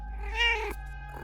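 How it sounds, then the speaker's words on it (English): A cat gives a single drawn-out, close meow that rises and falls, with a low steady hum beneath it. "So her husband got her a couple of cats to keep her company and amuse her."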